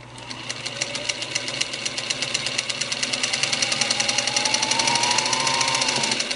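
Singer 221 Featherweight sewing machine running with a noise, even with the hook removed, producing a steady rapid mechanical clatter with a faint whine that slowly rises then eases, close and fairly quiet, with no talk.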